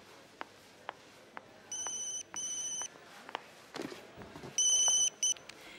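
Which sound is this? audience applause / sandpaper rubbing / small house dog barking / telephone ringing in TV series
telephone ringing in TV series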